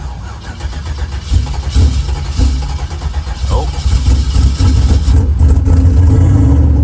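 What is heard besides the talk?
race car engine cold start with cam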